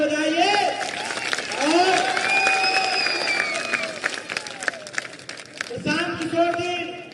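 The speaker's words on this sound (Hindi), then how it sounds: "इनके लिए एक बार जोरदार ताली बजाइए" A rally crowd applauds Prashant Kishor at a by-election gathering on an open ground, with steady clapping and cheers spreading through the audience while a voice speaks over the noise.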